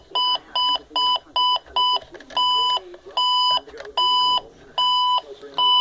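Electronic satellite receiver box emitting a repeated series of sharp, clear beeps in rapid, slightly irregular bursts, loud and close, with no talking over them.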